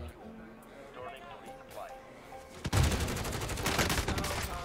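Rapid gunfire bursts in the video game Warzone, dense and loud from the midpoint onward after a quieter stretch, with players talking over it.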